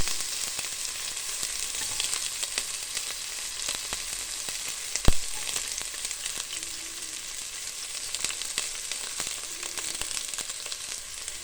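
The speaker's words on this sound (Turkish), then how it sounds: "Önce şöyle soğanlarımı şöyle sarımsaklarımı koyayım." Onions and garlic fry in a pan for a home-cooked chicken and potato dish, giving a continuous close sizzle with frequent crackles and one sharp clack of a utensil midway.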